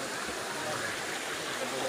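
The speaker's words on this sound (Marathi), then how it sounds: "कारण इथं पाणी पडायला लागले धबधब्यामधून" A waterfall at Lonar lake pours icy cold water down from above in a dense, continuous rush of white noise that stays steady throughout.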